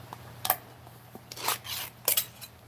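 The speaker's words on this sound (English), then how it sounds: "tin opening time. Try to do this nice and slow" A tin of Key Largo pipe tobacco is opened slowly, giving a few faint scraping and clicking metallic sounds in short bursts, quiet with pauses between them.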